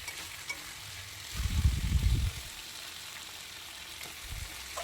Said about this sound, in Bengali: মাটনটা একটু বেশিক্ষণ ধরেই কষাতে হবে